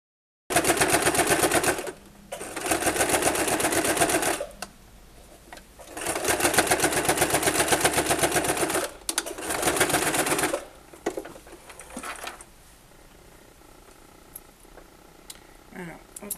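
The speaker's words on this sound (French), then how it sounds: "avec l'épaisseur du tissu, la machine a un peu du mal" Home sewing machine stitching through four layers of fabric plus fusible interfacing, running in several loud bursts of rapid mechanical clatter separated by short pauses, with quieter handling noises toward the end.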